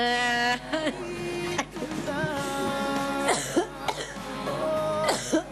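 A child coughs several times in short bursts over a steady musical background, close and fairly loud.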